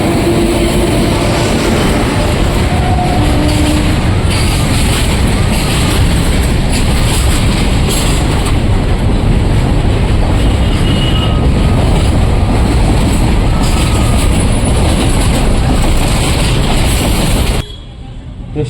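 A train rumbles loudly and continuously at a railway station in Kolar, a steady heavy rolling roar lasting nearly the whole stretch before cutting off abruptly near the end.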